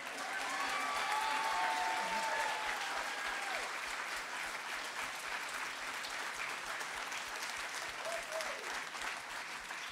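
Audience at a French-language event giving a standing ovation after a singer's performance, sustained loud applause from a large crowd with scattered cheers and whistles throughout.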